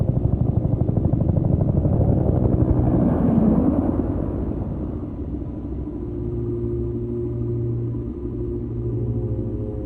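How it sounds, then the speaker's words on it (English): A helicopter's rotor in the video game Peridium chops steadily in a deep, rapid rhythm, loud and close, with a low rumbling drone that holds throughout. "Is that the evac chopper?"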